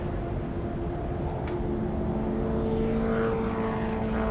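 A classic Lotus Elan race car drives past on a circuit during a pre-'66 GT qualifying session, its engine a steady, moderately distant drone with a faint rising and falling pitch.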